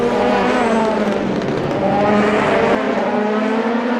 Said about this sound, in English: Oshizuna Rio now still side by side with Mikolev as they're now coming into the Michelin chicanes